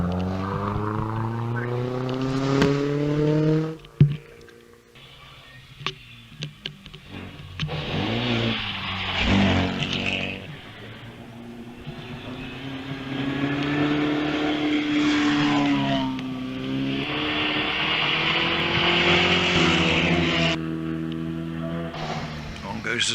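A Wolsey Hornet Special racing car climbing the hill at the Wiscombe Park hillclimb, engine rising and falling through gear changes, a loud pass building again toward the end, with commentary over it.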